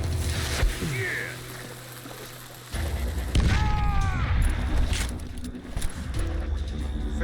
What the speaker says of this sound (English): Forgot that's how you do dynamite.